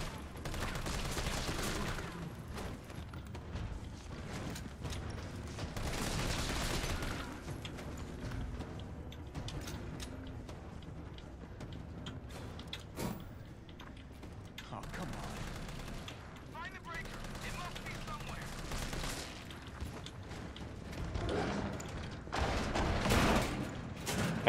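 In the Resident Evil 3 Remake video game, gunfire at zombies comes as bursts of sharp shots and rapid volleys over a busy mechanical game backdrop, with a voice talking at points.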